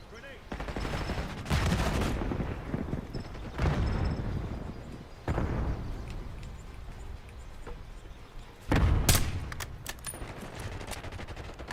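In a shooter video game, a grenade explosion lands among bursts of gunfire, with several loud heavy blasts spaced through the stretch and a sharp final blast near the end.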